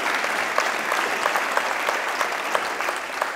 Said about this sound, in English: would you please give our guests and our heart and stroke survivors a round of applause